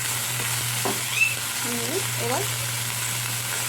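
Prawns sizzling in hot oil in a kadai, a steady close frying hiss with a low hum and a few scraping stirs, while someone says a single word.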